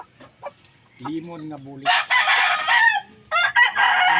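A young lemon-colored hen with black-speckled feathers, brooding for the first time, clucks and calls alongside loud crowing and cackling nearby, with a brief spoken remark mixed in.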